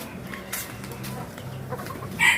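Soft clucking from Japanese bantam (chabo) chickens close by, a low murmur of calls continuing through the clip with a sharper squawk near the end.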